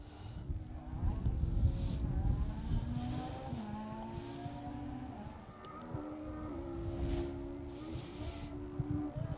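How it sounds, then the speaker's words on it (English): A rally car engine carries across an asphalt stage of the Down Rally, heard from a distance as a rising and falling note through gear changes, fairly faint and without any talk. "I could just hear this engine note"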